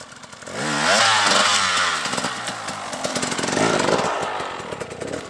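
A KTM 300 two-stroke dirt bike engine revs up and holds a loud, raspy buzzing drone close by, its pitch rising and falling as the rider works the throttle out on a spring trail ride.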